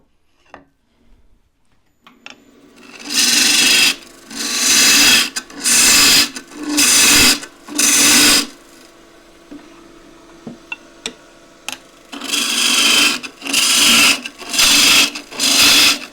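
A scraper cuts into the wood of an old table leg spinning on a lathe, several loud rasping bursts of a few seconds each, separated by a quieter motor hum in the gaps.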